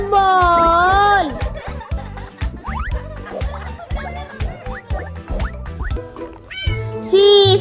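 A cat meows in a children's phonics nursery song, one drawn-out meow at the start and another at the end, with bouncy music and a sung voice between.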